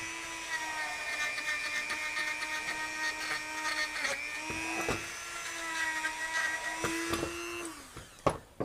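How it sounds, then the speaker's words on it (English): A wire wheel on a rotary tool grinds caked gunk out of a G&G airsoft gun barrel, a steady high whine with a wavering pitch that stutters with scraping contact and drops off near the end. "I'm going to use the wire wheel, I believe, because there's still a lot of gunk caked up in there"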